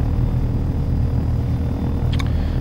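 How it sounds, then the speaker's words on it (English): Video-game helicopter flying over a Seattle city map, a steady, loud rotor-and-engine drone with a low throbbing rumble that holds constant throughout, with a brief higher whine near the end. "I'm flying a helicopter in the air above the Seattle map"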